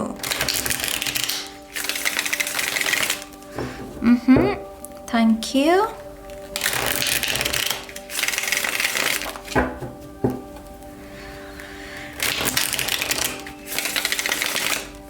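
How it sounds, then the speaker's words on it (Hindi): Tarot cards being shuffled, several bursts of crisp riffling and flicking separated by pauses, with a voice speaking briefly between them. "शफल कर लेते हैं कार्ड्स को ऑप्शन 2 के लिए"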